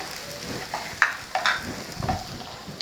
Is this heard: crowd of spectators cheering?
no